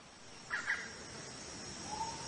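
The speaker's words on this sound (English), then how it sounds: "swallowed up by the cawing of wild birds" Two harsh caws from a wild bird in jungle ring out in quick succession, fairly close, over a faint hiss, followed by a softer call near the end.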